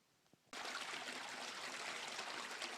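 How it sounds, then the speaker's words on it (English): Water rushes steadily through a recirculating gold-prospecting sluice, a constant close splashing flow that starts abruptly after a short quiet moment and keeps going without a break. "I've got my sluice recirculating now"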